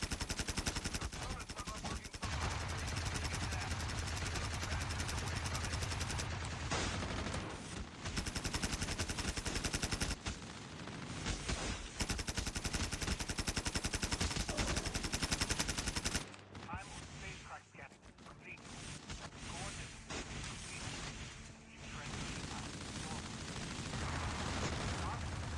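A Death Machine rotary gun fires in Call of Duty Mobile's Undead Siege mode. Sustained, loud, rapid bursts run almost continuously, with brief breaks between strings of fire, and a voice talks over the shooting.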